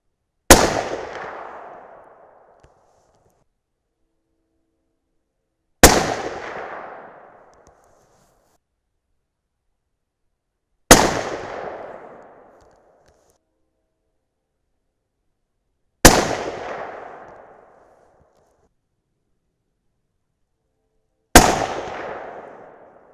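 Five loud, sharp .300 Win Mag rifle shots fired with Hornady brass, evenly spaced about five seconds apart, each with a ringing decay and silence between.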